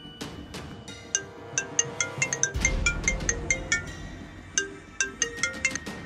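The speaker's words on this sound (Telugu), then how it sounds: "ఫోన్ రింగ్ అవుతుంది రీ" A mobile phone ringtone plays a bright, melodic sequence of clear electronic notes that rise and fall in a repeating pattern, loud and close with no voices.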